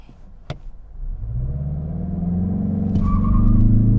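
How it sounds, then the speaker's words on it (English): A 2021 Mazda 3 Sport GT Turbo accelerating hard from a brake-torqued launch in sport mode, engine rumble rising steadily in pitch and loudness from inside the cabin, with a couple of brief clicks. "let's go for an acceleration run"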